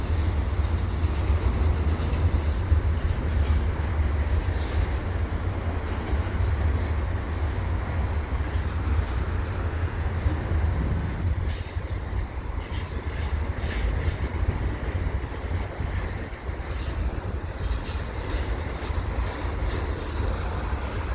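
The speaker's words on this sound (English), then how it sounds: "Oh, here's the commuter train." An EXO commuter train rolls slowly past at Dorval, a steady, loud rumble of wheels and cars that holds for the whole stretch without a break, with faint squeals over the low roar.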